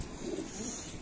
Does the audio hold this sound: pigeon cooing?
yes